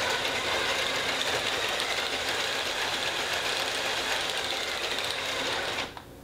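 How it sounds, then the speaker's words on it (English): A small electric motor drives a LEGO Helicarrier model under PFx Brick control, giving a steady, close, dense whirring hum that runs unbroken and then cuts out just before the end. "the right jog wheel controls the speed of the motor"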